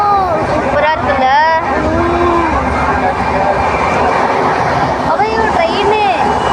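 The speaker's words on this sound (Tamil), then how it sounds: "ட்ரெயின் வராமே ட்ரெயின் சவுண்டு வருதுல்ல" A train rolls past near Tiruthani, a steady rumbling roar with whining tones, as people talk over it and the noise carries through the whole stretch.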